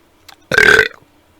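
A single loud, close burp after eating rice, short and throaty, lasting under half a second and followed by silence.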